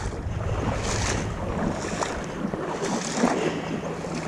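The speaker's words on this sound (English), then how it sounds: "Too much water flowing, I couldn't paddle against it." A strong river current rushes around a kayak in shallow water, a steady, close wash of flowing water mixed with gusty wind buffeting the microphone. No voices are heard.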